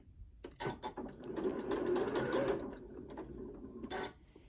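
A Horizon Memory Craft 9410QC sewing machine stitches at a slowed speed, its needle mechanism whirring and tapping close by for a few seconds before stopping with a click.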